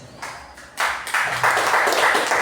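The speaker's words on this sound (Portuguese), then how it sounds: "vamos dar uma linda salva de palmas para Jesus" A church congregation breaks into applause, the clapping starting faint and swelling into a fuller, louder wash of hands.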